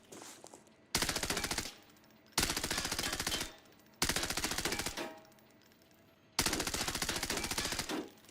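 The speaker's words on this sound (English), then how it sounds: "I shoot and then I can hear the time it takes for the bullet to hit the guy" Automatic gunfire in the video game Arena Breakout Infinite comes in four long, rapid bursts of evenly spaced shots, each about a second and a half, with short quiet pauses between and no talking.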